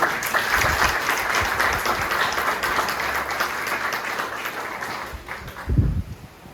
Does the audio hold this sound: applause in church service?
yes